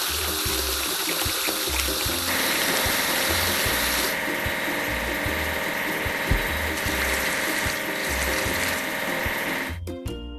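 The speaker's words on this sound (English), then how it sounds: "Timber loader." A timber loader machine in a kids' video game whirs and clanks over a looping bouncy tune, with a steady hiss of water-like noise and mechanical ratcheting that cuts off at the end.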